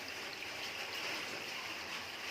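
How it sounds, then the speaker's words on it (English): Floodwater on a flooded off-grid property in Australia, flowing behind a bathroom and seeping through Besser block walls, gives a steady broadband rush and trickle, moderately faint and continuous with no voices. "you can hear water coming from the back there."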